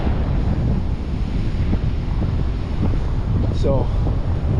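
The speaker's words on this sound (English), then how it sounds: "it's windy, headwind. That's southeast winds" Ocean surf washes along East Beach on Haida Gwaii while a strong southeast headwind buffets the microphone in a steady roar, with a brief word spoken.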